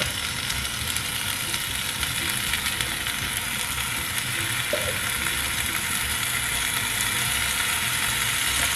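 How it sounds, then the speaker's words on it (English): Steady, hissing sizzle of Parma ham-wrapped Brie frying in a hot pan, a continuous broadband crackle at even loudness with no talking. "You can hear sizzling."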